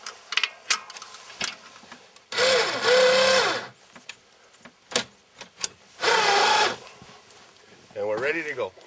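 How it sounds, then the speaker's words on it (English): An ATV winch winds in its cable while a snow plow blade is hooked up, giving two whining motor bursts with short clicks and knocks between them, followed by a brief voice at the end. "Now we'll hook up the winch cable."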